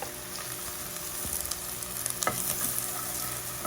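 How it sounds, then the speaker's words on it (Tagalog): Garlic sautéing in a pan of hot oil for beef kaldereta, giving a steady, close sizzle with faint stirring clicks throughout and no talking. "Ayan, magigisa na po tayo ng bawang, sibuyas."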